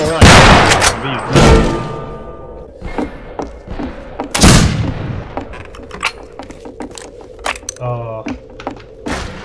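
Gunfire in the Wild West shooter Fistful of Frags, with loud, sharp shots and heavy booms spaced irregularly, some close and echoing, plus thuds and clicks between them, under excited talking.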